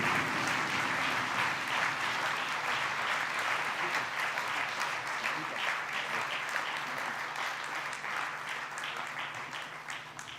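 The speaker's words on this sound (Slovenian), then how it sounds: "aplavz še za gospo Marjeto" An audience at a Slovenian business award ceremony applauds steadily for about ten seconds, a dense, even roar of many clapping hands that slowly fades toward the end.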